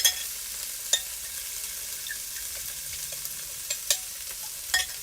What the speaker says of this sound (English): then I'm going to add my teriyaki sauce